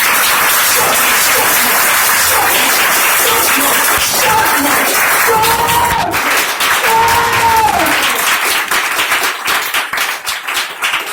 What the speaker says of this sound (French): Applaudis, choque-moi.